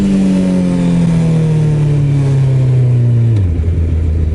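Suzuki Hayabusa motorcycle accelerating in first gear during a rider training day: a loud, close engine note climbs steadily in pitch for about three seconds, then drops sharply as the throttle closes.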